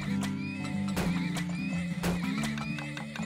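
A horse neighs and whinnies in the video game Turmoil, loud, wavering calls repeating over a steady game music bed with clip-clop-like hits.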